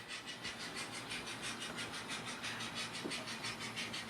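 HO scale model train engine running up a mountain grade on layout track, a steady rhythmic whirring and clatter with pulsing high chuffs, fairly faint and continuous throughout.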